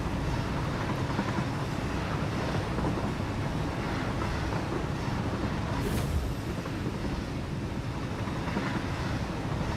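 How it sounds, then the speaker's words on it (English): Steady broadband rushing roar of a waterfall in the video game Satisfactory, continuous and even throughout with no talk. "Oh, look at that waterfall."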